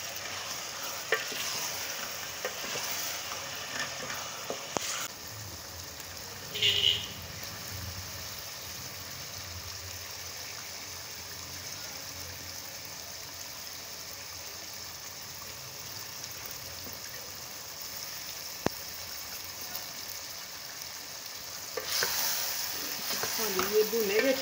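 Onions with garlic and ginger sizzle and fry in a pan for chicken biryani, a quiet steady crackle broken by occasional stirring scrapes and a louder spoon movement near the end.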